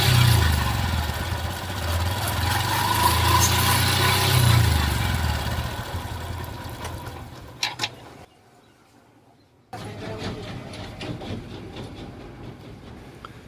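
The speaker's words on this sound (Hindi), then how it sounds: "अब मैं बाइक को स्टार्ट करूँगा और आपको आवाज़ सुनाता हूँ पहले से कितना चेंजिंग आया हुआ है।" A motorcycle runs with a steady, loud mechanical rumble after a drive-chain adjustment for chain noise; the sound cuts out briefly, then the engine resumes at a lower level.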